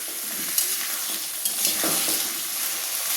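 Jackfruit pieces are stirred as they fry in a pan, giving a bright, continuous sizzle broken by a few sharp spatula clicks and scrapes close by.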